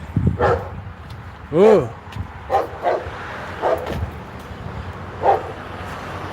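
Dogs bark and yip in scattered short bursts at moderate distance over outdoor background noise, while a person whoops nearby.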